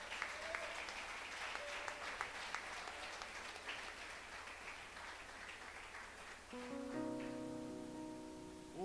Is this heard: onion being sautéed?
no